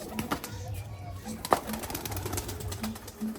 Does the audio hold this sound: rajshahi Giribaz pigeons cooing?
yes